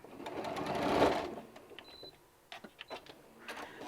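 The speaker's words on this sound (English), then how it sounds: "I'm going to go ahead and back stitch" Sewing machine back stitching on a fabric drool bib, a loud burst of dense rapid stitching that slows and stops, followed by a few quieter clicks and short mechanical bursts.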